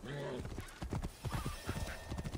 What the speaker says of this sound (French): on pourra plus être au galop avec le cheval